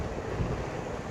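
Wind blowing at the DMZ in Vietnam, a steady, loud broadband rush buffeting the microphone throughout, with no other sounds.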